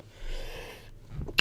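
A single sneeze building from a breathy inhale to a sharp burst at the end, close and moderately loud, with no talk.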